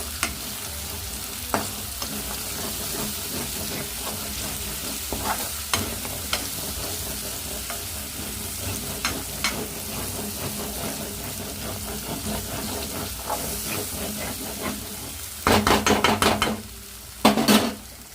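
Chicken liver curry being stirred in a pan with turmeric and salt, a steady close sizzle and frying hiss with repeated scrapes and taps of the spoon, and a louder burst of stirring near the end.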